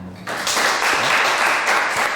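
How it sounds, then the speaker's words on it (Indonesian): Audience applause fills a Buddhist dharma talk hall, a steady wash of many hands clapping that swells after a quiet start and carries on throughout without any voices. "Tepuk tangan semuanya."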